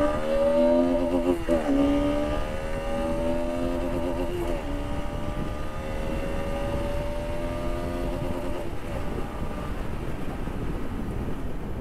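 KTM Duke 250 motorcycle passing by, engine tone rising then falling as it sweeps past, followed by a fading drone under heavy wind rumble on the microphone.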